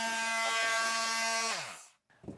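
An oscillating saw cutting through the wall of a 2024 Jayco Jay Feather travel trailer gives a steady, close buzzing whine for about a second and a half, then slows and stops, followed by a brief clatter.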